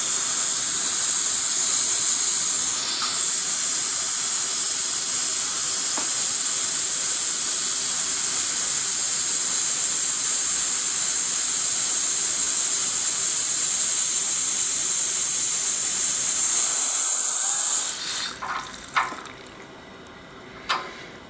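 Air hissing steadily and loudly from a radiator valve being bled on a Worcester Bosch heating system, a continuous bright rush that gives way to sputtering water and faint clicks near the end.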